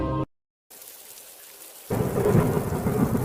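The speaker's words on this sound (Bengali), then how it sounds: "কয়েক সপ্তাহ পর আকাশে মেঘ উঠল, প্রচণ্ড বৃষ্টি হলো" Heavy rain pours during a thunderstorm, a rolling thunder rumble breaking over the downpour after a short silent gap, loud and close, with no voices.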